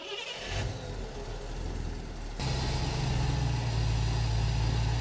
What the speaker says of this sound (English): Go ahead and try to start it.